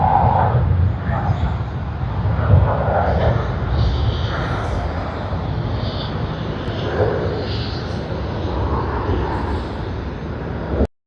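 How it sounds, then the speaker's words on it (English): Airliner jet engines roar steadily through a takeoff roll at Sydney Airport, a loud broad sustained rumble heard from close by that cuts off abruptly at the end, with someone talking excitedly over it. "Lovely to get the takeoff roll."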